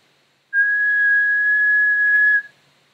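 A single steady whistled note, clear and pure, held for about two seconds in near silence before stopping abruptly.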